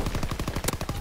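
A shotgun fires in a video game, heard as a rapid, loud burst of about a dozen shots packed into one second.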